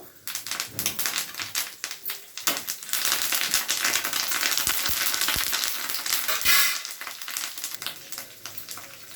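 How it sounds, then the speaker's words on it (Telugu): Chana dal, urad dal, mustard seeds, dried red chillies and curry leaves fry together in hot oil in a kadai for raw mango pulihora. The sizzle is loud, dense and continuous, broken by sharp crackles and pops, with no talk. "శనగపప్పు వేసుకుందామండి అదే కళాయిలోని ఇంక సపరేట్గా వేయకుండా మినప్పప్పు ఆవాలు ఎండుమిర్చి కరివేపాకు"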